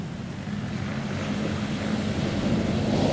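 Surf at Cangaan beach in Ambulu, Jember, heard as a continuous broad wash of waves with wind buffeting the microphone, steady and fairly loud, no voices.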